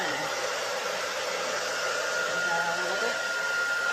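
A blow dryer roars steadily throughout while drying paint on a canvas, a loud, continuous close whoosh with a voice speaking briefly over it.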